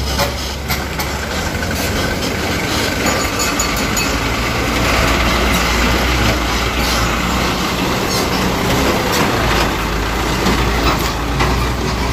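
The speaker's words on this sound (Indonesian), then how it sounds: "Potong konvoyannya sama kereta yang mau melintas." A loud, continuous rumble of a heavy train rolling past nearby in Banten, Indonesia, a steady roar with engine drone that barely changes over several seconds.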